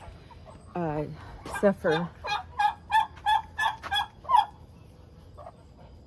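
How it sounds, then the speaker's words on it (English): Brahma chickens on a hot day cluck in a quick series of about eight loud, close calls, with a short voice heard just before them. "the Brahma chickens"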